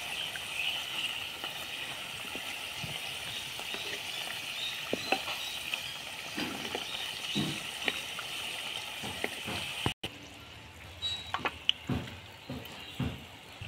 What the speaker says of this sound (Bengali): সিঙ্গাড়াগুলো কিভাবে ধীরে ধীরে ফুটতেছে, অল্প করে আঁচটা দিতে হবে